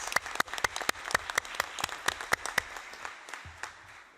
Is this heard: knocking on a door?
no